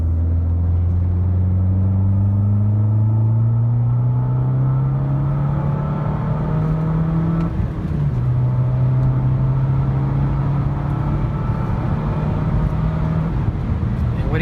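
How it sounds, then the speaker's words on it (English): Turbocharged car accelerating at full throttle in third gear, heard from inside the cabin as a loud, steadily rising engine drone that climbs in pitch for about seven seconds, dips briefly, then pulls again under continuous road rumble. "All right, this is full throttle in third gear."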